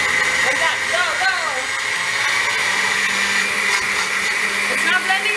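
A blender whirs loudly while churning cake with ice, a continuous motor whine with grinding and clattering, as people talk over it.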